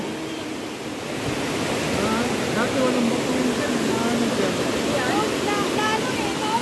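Strong sea waves surge in a steady, loud roar of surf at a beach, rushing continuously under a person speaking.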